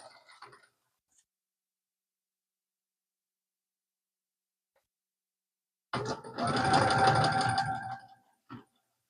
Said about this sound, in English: I'm gonna get some up close of the sewing.